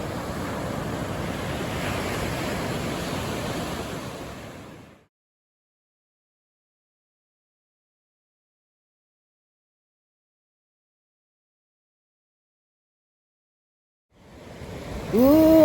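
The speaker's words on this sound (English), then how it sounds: "I could stand here all day and film water, especially when there are birds in the background" Waves wash along the West Coast shoreline beside a redwood forest trail in a steady rushing surf with wind, cutting out to silence midway before returning louder at the end.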